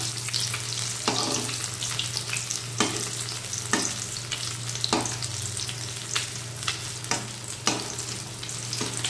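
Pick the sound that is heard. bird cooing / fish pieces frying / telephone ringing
fish pieces frying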